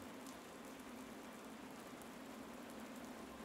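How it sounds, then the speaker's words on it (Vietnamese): Steady drizzling rain hisses evenly and continuously, a dense wash of fine drops falling on surfaces with no pauses, heard alone at a soft, constant level without any voices. "lại thêm cơn mưa rả rích không ngớt"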